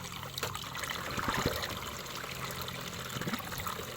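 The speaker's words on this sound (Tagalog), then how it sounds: "Dito na po ako sa bukal na aking pag-iigiban ng tubig." Cold spring water trickles at a natural spring while someone fills containers with drinking water, a steady, fairly faint splashing dribble with no voices.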